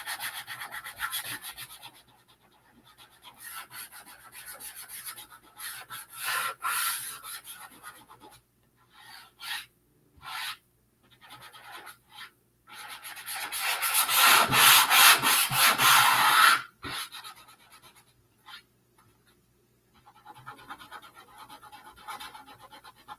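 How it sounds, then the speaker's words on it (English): A craft piece is lightly hand-sanded in bursts of dry rubbing strokes, quiet stretches between them and one longer, louder run of sanding in the middle, close up with no voices. "I'm just gonna lightly sand over top of those."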